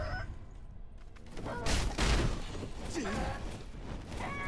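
A rooster enemy in the game Sekiro clucks and crows amid a busy stretch of fighting sounds, with sharp bursts and a swell of noise in the middle, all under someone talking.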